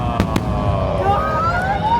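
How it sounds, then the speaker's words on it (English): A fireworks display in Taiwan gives two sharp bursts close together near the start, followed by rising whistling streaks, with voices in the background. "But I was really blown away by these fireworks."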